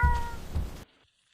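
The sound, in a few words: cat meowing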